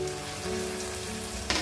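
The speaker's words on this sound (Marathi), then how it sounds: "छान परतून घेऊया" Chopped onion and tomato sautéing in a pan, a steady close sizzle and crackle with a brief clatter near the end.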